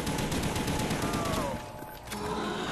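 Rapid automatic gunfire in a zombie video game, a dense loud burst of shots that thins out toward the end, heard alone without talk.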